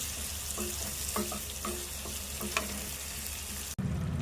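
Spices tempering in hot oil for a tomato curry, a steady frying crackle with scattered pops and stirring clinks, cut short by a sudden drop and a lower bubbling hum at the end.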